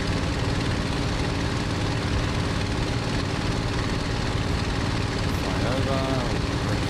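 Messerschmitt Bf 109 G-6 warbird engine roaring loudly and continuously as it flies near Duxford in Microsoft Flight Simulator 2020, a dense steady propeller drone.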